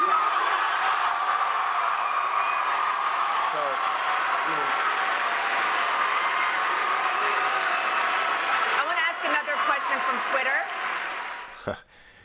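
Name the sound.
loud cheering and booing at CPAC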